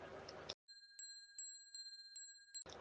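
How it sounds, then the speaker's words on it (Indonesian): A temple bell, a genta, struck several times in a quiet setting: clear, ringing metallic strikes with sustained tones between them, moderately faint. "Ia membunyikan genta untuk memanggil naga Besuki."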